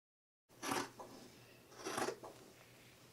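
Fabric scissors cutting along pattern lines, two faint, close snipping strokes about a second and a half apart, each followed by a brief softer crunch, in an otherwise quiet room.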